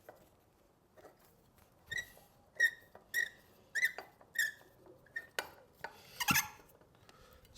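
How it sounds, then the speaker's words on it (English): An Oxford Anchor Force ground anchor creaks and squeaks as it is screwed into the ground, giving a run of short, fairly close rasping creaks in a steady rhythm with quiet gaps between them. "If it's creaking, it's working."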